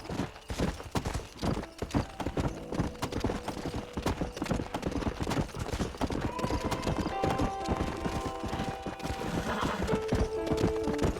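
Horse hooves clip-clop steadily in the Red Dead Redemption video game, with a whinny and neigh rising over the continuous trotting, close and fairly loud throughout.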